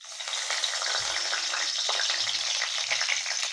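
A bay leaf sizzles in hot mustard oil as it is tempered, a steady close crackling hiss with small pops throughout and no talking.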